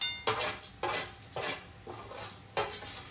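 A spoon scrapes and clatters against a metal pot while date sweet (khajur pak) is stirred, with four or five distinct scraping strokes at an uneven rhythm, close and fairly loud, and no talking.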